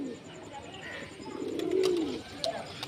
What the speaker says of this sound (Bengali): এই যে একদম ধারের মধ্যে বসে আছে পায়রাটা